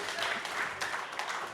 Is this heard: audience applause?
yes